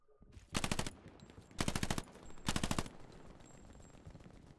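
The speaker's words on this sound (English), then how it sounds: "machine gunner right there." Machine gun fire in the World War II shooter game Hell Let Loose, three loud, rapid bursts about a second apart, each followed by a quieter tail of distant battle noise.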